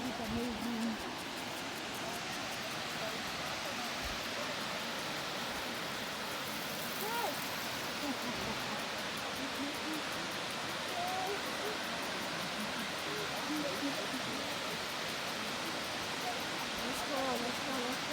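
A waterfall at a botanical garden in Johannesburg gives a steady, broad rushing roar that fills the whole clip, with faint voices underneath.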